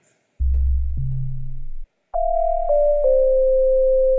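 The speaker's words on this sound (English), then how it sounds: "That's a sine wave." Steady pure sine wave tones, first low then stepping up to higher pitches after a short silent gap, each held cleanly with no voices.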